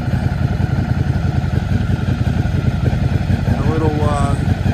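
A 2013 Ducati Monster 1100 EVO with a Werkes competition exhaust idles with a deep, steady, lumpy throb close by, a voice speaking briefly over it near the end.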